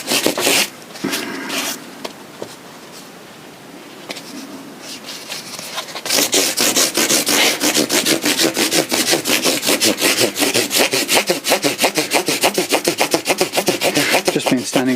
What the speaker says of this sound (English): I'm going to add an extra stage of sandpaper. I'm going to go from 600 to 1000 grit.